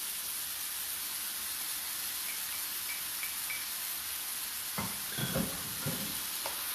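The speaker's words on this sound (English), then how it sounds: "Stir that around a little bit." Tomatoes and coriander stirred in a pan over steady frying sizzle and hiss, with a few soft utensil scrapes and knocks toward the end; no one talks.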